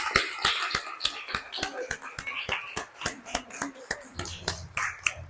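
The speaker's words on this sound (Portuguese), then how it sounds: "Uma salva de palmas para os nossos pais." Church congregation clapping for fathers at a Father's Day service, rhythmic loud claps in a steady beat, close and sharp, with some voices underneath.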